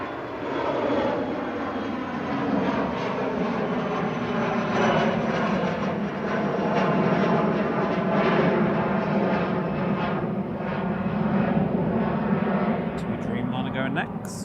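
An Embraer ERJ145 regional jet takes off at Manchester Airport, its engines giving a steady, broad, loud roar that holds for the whole stretch, with no one talking over it.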